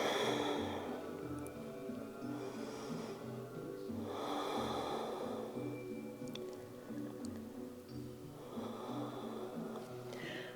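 Slow, deep breaths during a yoga session while lying face down, palms under the forehead, each long inhale and exhale rushing softly over a low steady background hum.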